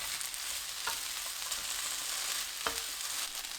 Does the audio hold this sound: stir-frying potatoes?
yes